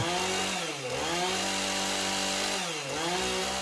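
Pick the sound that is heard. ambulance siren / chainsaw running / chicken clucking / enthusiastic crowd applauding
chainsaw running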